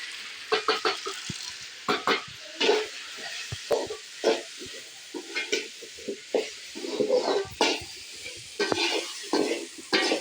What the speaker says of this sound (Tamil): மசாலாலாம் சேர்த்து நல்லா கலந்து விட்டுட்டோம்